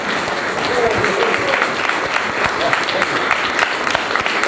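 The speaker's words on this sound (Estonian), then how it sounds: "Daamid ja härrad, võite juba plaksutama hakata." Audience applause in a concert hall at a 75th-anniversary tribute event, a dense, steady wash of many hands clapping throughout, loud and close, without a break.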